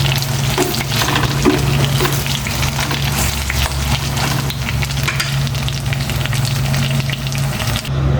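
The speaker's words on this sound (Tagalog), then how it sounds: "Ito namang 2 tilapia ang iprito ko." Two tilapia frying in hot oil in a pan, a loud, dense, continuous sizzle and crackle that holds steady from start to finish without talk.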